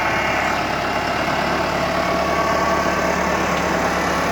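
A John Deere tractor on a family farm in Cape Breton, Nova Scotia, idles with a steady, loud, continuous diesel rumble close by, unchanging throughout.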